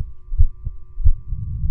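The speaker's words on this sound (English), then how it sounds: "why is my heart beating now?" A heartbeat in a video game set in a forest after a car breakdown: slow, deep, muffled double thumps repeating about every two-thirds of a second over a low steady hum, with no talk.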